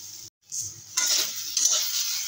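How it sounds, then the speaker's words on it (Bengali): Okra and vegetables sautéing with fish roe in a pan, a soft sizzle and the scrape of stirring. A short silence comes first, then a louder, steady frying hiss with no one speaking. "ভালো করে একটু কষে নেব।"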